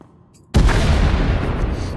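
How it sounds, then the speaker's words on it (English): An explosion in the Star Wars: The Old Republic video game bursts in suddenly after a quiet half-second, then holds as a loud, sustained, rumbling roar to the end. "We heard explosions."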